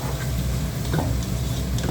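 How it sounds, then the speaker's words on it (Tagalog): Tomato sizzles and fries in a hot pan while being sautéed for Ilocano pinakbet, a close, steady crackling hiss with light stirring scrapes throughout. "Gisa-gisa muna, and the tomato goes in."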